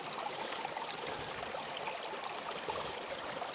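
A big river flows steadily, a continuous broadband rush of water heard close and fairly quiet, with no voices over it.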